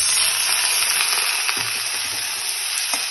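Onion and shredded cabbage fry in a hot pan with a dense, continuous sizzle, close and loud, with a few faint stirring scrapes and no voices.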